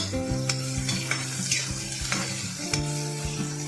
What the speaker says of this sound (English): Saute chopped onions for about 2 to 3 minutes, stirring frequently until the raw smell goes away and they turn soft.